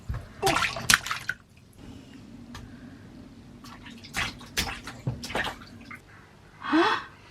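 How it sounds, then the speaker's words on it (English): A baby splashing in bath water gives scattered close, sharp slaps and sloshes in irregular bursts, separated by quieter dripping and small breathy sounds. "Splash, splash, splash, splash, splash."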